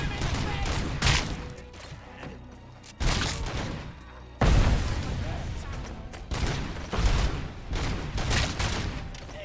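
Video game gunfire comes in heavy bursts separated by short gaps, loud and close, with a voice talking over some of the shots.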